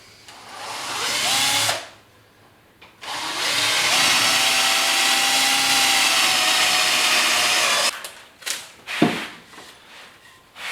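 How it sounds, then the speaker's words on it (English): A power drill bores a pilot hole in wood for a standing lattice, whining loudly and close in two sustained bursts separated by a brief pause, then some short clattering handling noises. "what we're going to do now is just drill a pilot hole"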